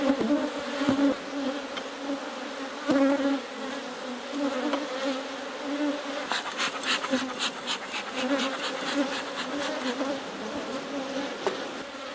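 Honey bees buzzing around an open hive during requeening, a dense continuous hum from many insects close by, with individual bees droning louder as they pass near.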